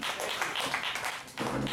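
Audience applause fills a live music venue, the recordBar in Kansas City, MO, a dense, steady patter of many hands clapping at close range with a brief dip before swelling again.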